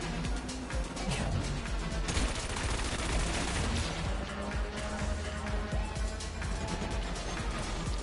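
Mines firing in the Wipeout Omega Collection racing game come through as dense, continuous bursts of crackling blasts layered over a loud roaring engine hum, with a brief voice in the game.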